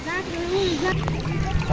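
A village boat carries a group of people across a river to a feast, with water swishing and lapping against the hull under people talking nearby.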